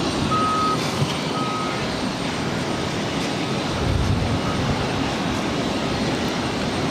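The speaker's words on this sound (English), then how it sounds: "Spirit A320 pushing back" A tug pushes back a Spirit Airlines A320 at Boston Logan, with a few evenly spaced high reversing beeps early on over a constant rumble of engines and ground vehicles on the apron.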